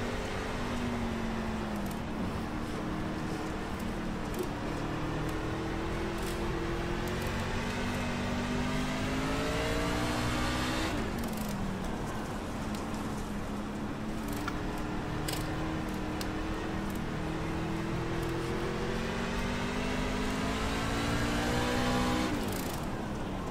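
Race car engine in iRacing at Knoxville, a loud close revving whine climbing and dropping in long sweeps as the throttle rises and lifts, repeating every few seconds around the lap.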